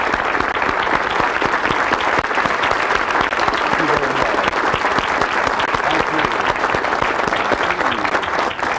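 Large seminar audience applauding a motivational speaker on goal setting, loud, dense, sustained clapping that continues evenly throughout with a few faint voices in the mix.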